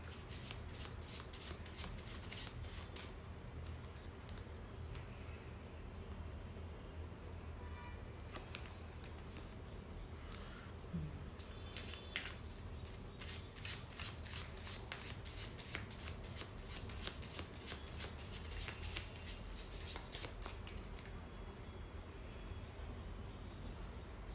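Tarot cards being shuffled by hand, a long run of dense riffling and flicking that stays steady and close throughout, with brief pauses between bursts and no talking.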